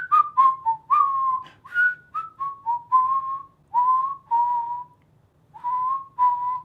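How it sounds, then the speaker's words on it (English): Clear melodic whistling from a song, a series of short sliding phrases with brief pauses between them, close and prominent with nothing else playing. "Of course, the dynamic whistling..."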